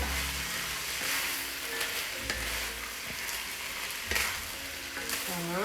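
White bean soup is stirred in a pot at a steady, moderate level, with a continuous sizzling, frying texture and some scraping. A few brief voice sounds break in near the start and end.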